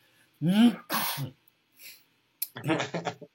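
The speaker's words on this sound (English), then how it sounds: "coughed roughly into his fist" A voice acts out a rough, throaty cough in a few harsh bursts, followed after a pause by a breathy, raspy sound.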